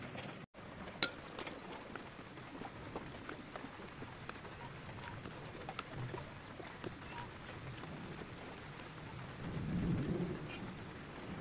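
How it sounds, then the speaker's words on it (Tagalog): Steady rain patters on surfaces in the morning as a faint, continuous hiss with scattered drop clicks and a low rumble building briefly near the end. "Maulan na araw ngayon guys."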